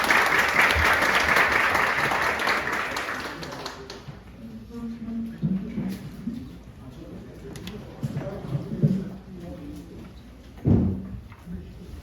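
Audience applause at a maritime sovereignty policy forum in a small conference room at the National Assembly Library, dense and steady for about four seconds before fading into scattered claps, room noise and a speaking voice.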